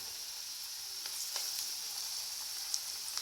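Moong dal pakoda, small flattened lentil dumplings, frying in oil, a faint, even sizzle with a few light pops and crackles scattered through it.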